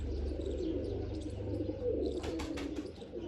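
Pigeons coo steadily over a dense flock murmur, and a brief burst of sharper chirps rises near the end. The sound is close and continuous, with no speech.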